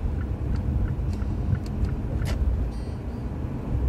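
A car drives through light city traffic in Kyiv, heard as a steady low engine and road rumble from inside the vehicle with a few faint higher noises passing over it.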